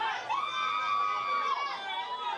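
A wrestling-show crowd jeers and shouts to drown out a wrestler, a dense roar of voices with one long sustained chant-like tone held across most of the stretch.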